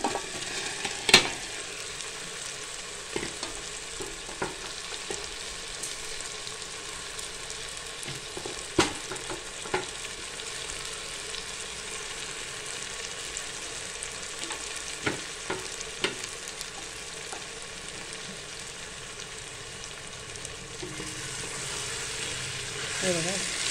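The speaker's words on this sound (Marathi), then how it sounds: "छानपैकी अशी भाजी आपल्याला चांगली परतवून घ्यायची." Marinated vegetables added to softened tomatoes for a veg biryani sizzle steadily in a pan, with repeated clanks and scrapes of a spoon stirring, and someone talking at times over the frying.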